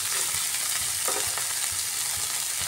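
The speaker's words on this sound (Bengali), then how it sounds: "এটাকে একটু শুকনো শুকনো করে ঝরঝরে করে ভেজে নিতে হবে।" Food frying in a pan until dry and crumbly, a steady close sizzle with a few soft stirring scrapes, no talking.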